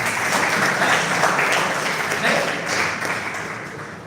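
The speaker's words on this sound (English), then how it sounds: "Give her a good round of applause" A live audience gives a steady round of applause, dense and fairly loud, swelling slightly and then tapering a little toward the end, with a faint murmur of voices underneath.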